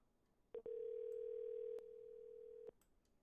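Steady telephone dial tone on a call-in phone line, a single sustained loud tone lasting about two seconds with brief clicks at its start and end, no voices present.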